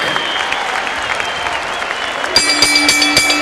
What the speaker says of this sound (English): they both deserve a big round of applause for their effort